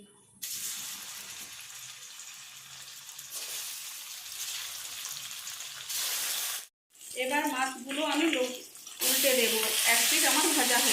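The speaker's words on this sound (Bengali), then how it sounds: "মাছগুলো ভেজে নিচ্ছি" Rohu fish pieces rubbed with salt, turmeric and chilli fry in hot oil in a wok, giving a constant hissing sizzle, while a voice speaks over it in the second half.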